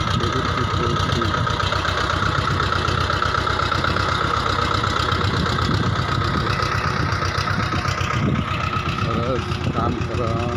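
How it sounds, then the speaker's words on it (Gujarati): A farm mini tractor engine runs steadily in a close, rattling chug with a droning hum, continuous under a voice talking over it. "ગમે તે કામમાં આ મિની ટ્રેક્ટર કામમાં આવે છે"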